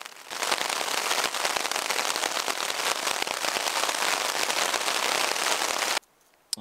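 Steady rain drumming on a tarp at a remote wilderness campsite, a dense continuous patter of close drops that cuts off abruptly near the end.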